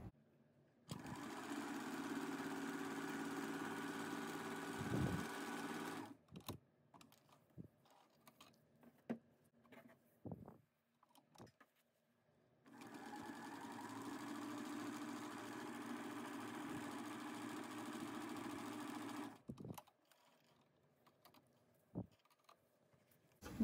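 Sewing machine stitching a kids' fabric mask, two stretches of steady fast whirring several seconds long separated by a pause with small handling clicks and taps, quiet and close.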